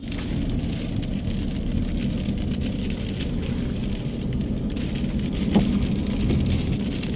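Heavy rain pours down during a thunderstorm in Khanewal, a dense, even roar of drops hitting surfaces close by that holds steady throughout, with a faint voice briefly heard under it.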